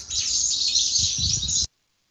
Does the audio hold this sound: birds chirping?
yes